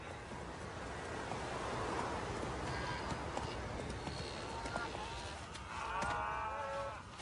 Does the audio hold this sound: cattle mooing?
yes